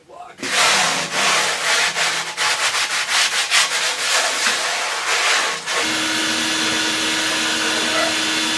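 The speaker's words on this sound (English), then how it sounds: "There's my little sanding block." A sanding block rubbing back and forth on the metal surface of an antique wood-fired cook stove, a loud harsh scraping in rapid repeated strokes for about five seconds, followed by a steady droning hum.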